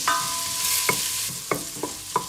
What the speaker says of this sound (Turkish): Rendelemiş olduğum havucu da ilave ediyorum. Şöyle güzelce kavuruyorum.